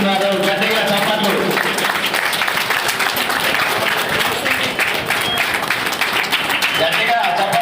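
Audience applause at a retirement function for an RTC Greater Hyderabad zone official, dense sustained clapping from a crowd at close range, loud and steady throughout, with a voice speaking over it.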